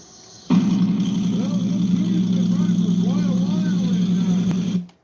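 A BarelyCuda car engine idles at a steady, low rumble that starts abruptly and holds constant before cutting off near the end, with faint chirpy sounds drifting above it.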